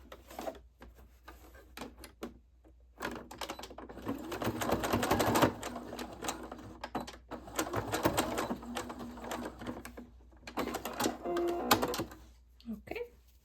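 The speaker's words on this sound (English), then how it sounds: "I will fold and just run a stitch on top" A sewing machine runs a top stitch across fabric for a makeup bag, its rapid mechanical whirring coming in bursts of several seconds with short pauses between runs, fairly close and steady.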